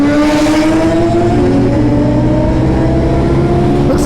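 Built-motor Suzuki Hayabusa motorcycles drag race, their engines screaming in a loud, continuous high-revving wail with steady tonal harmonics throughout.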